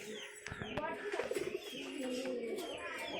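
Pigeons in nest boxes give soft, close cooing with a quick burst of rolling notes, while a person talks nearby.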